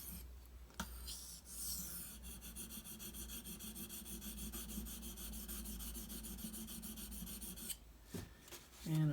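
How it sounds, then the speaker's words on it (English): Benchmade Anthem knife blade stroked across a Shapton Pro whetstone, a steady close rasping scrape sustained for several seconds with a brief pause near the end. "Go through your whole stroke like you're doing the full sharpening, and when you get to the tip, just hold that angle."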